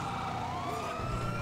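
A police siren wails continuously in GTA V, its pitch sweeping up over a steady engine drone, loud and close throughout.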